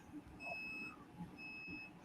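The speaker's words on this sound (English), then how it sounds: "Can you hear the beeping sound, Mike?" Faint, distant electronic beeping inside a house, coming from upstairs like a smoke alarm: two sustained high-pitched tones separated by a short gap, over low background rumble.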